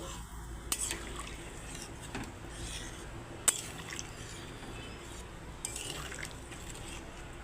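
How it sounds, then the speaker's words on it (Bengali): Water goes into a pan of sautéed spices for a light rohu fish curry with papaya, potato and raw banana, giving a faint liquid pour and splash with a few soft clinks of the pan. "এখন কষানো হয়ে গেছে আমি জল দিয়ে দিচ্ছি"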